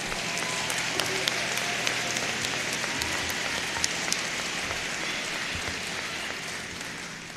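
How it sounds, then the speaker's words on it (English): Sustained applause from a large audience at a commencement ceremony, a dense, even wash of clapping that holds steady throughout and fades slightly toward the end. "Let's give him one more round of applause."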